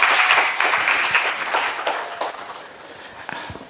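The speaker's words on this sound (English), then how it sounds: "That was really a big applause to him." Audience applause at a materials science seminar, a roomful of hands clapping steadily and thinning out over a few seconds, with no voices over it.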